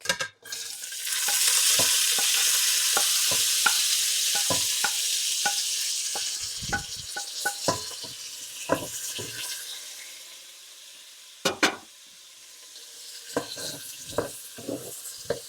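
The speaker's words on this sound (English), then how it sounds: "we're supposed to cook this for about 3 minutes and get all that goodness off the bottom too" Carrots, onion and garlic sauté in a pot with a loud, steady sizzle that gradually eases, followed by scattered scraping and knocking as a spoon stirs the vegetables and works the bottom of the pot.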